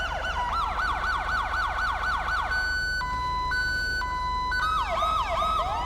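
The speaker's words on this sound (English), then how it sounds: "So I got my sirens on, right? And you can go through all different sirens." Loud electronic police siren in the video game LSPDFR, cycling through patterns: a rapid wailing sweep, then a two-tone hi-lo alternation, then a fast yelp, steady and close.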